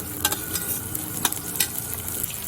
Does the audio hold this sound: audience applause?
no